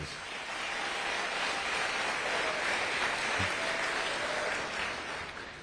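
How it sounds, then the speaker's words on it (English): An audience at a horse racing Hall of Fame induction ceremony gives a jockey a full round of applause, dense and steady, swelling and then easing off toward the end. "Big round of applause, please."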